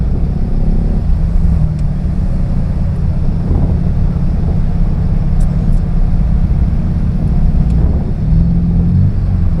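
Heavy, congested road traffic near Victoria, Laguna, with cars and motorcycles idling and creeping along, a loud, dense low engine rumble that holds steady throughout, with occasional passing hums and wind buffeting on the microphone and no talk.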